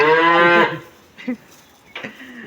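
A loud, close cow moo opens at a cattle market, followed by two brief fainter calls or voices in the quieter background.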